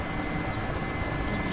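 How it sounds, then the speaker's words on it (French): Helicopter holding a steady hover close to the ground just before setting down, its rotor and engine making a continuous broadband roar that stays even and loud for the whole moment. "Donc l'hélicoptère tient le stationnaire"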